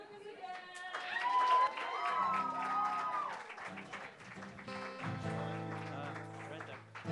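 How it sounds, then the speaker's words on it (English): Audience at an open mic night claps for a performer, a soft, fairly distant patter of hands under a host's talking voice and lingering music-like tones. "Let's clap for Lucas again."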